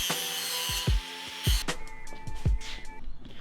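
A power tool grinds off the sharp tips of household screws, with loud whining tones broken by several sharp metallic thumps and bursts of cutting.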